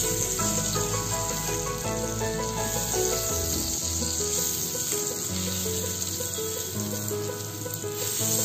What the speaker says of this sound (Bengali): পেঁয়াজগুলো কিন্তু আমার